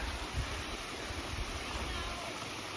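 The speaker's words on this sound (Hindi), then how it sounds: "और यहाँ से ये आ रहा है झरना" A mountainside waterfall rushes in a steady, dense roar that fills the scene without pause.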